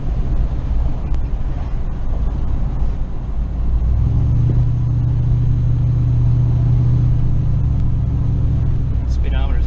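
A car out on the road, driven at highway speed near 80 miles an hour, gives a steady low engine and road rumble with wind noise, deepening and strengthening partway through as it accelerates; people talk over it.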